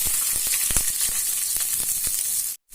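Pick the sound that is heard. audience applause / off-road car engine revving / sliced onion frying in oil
sliced onion frying in oil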